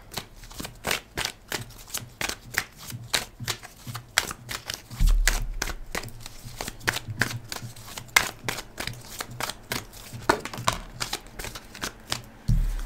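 Oracle cards shuffled by hand, a long run of quick crisp riffles and soft card slaps in an irregular rhythm, close and fairly quiet, with a few duller thumps partway through and no talk.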